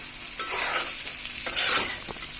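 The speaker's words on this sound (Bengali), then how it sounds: "এটাকে ভালোভাবে নেড়ে চেড়ে নিচ্ছি। এটাকে একটু নরম হওয়া লাগবে।" Garlic fries in a pan for achar and is stirred close up. Two sweeping scrapes of a spoon run through a soft, steady sizzle, quiet overall and without any talking.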